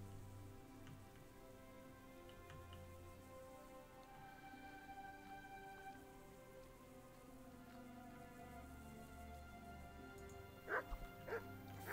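Dog barking in the medieval role-playing game Kingdom Come: Deliverance, a few short distant barks near the end over steady game ambience that includes rain-like patter and a low background hum.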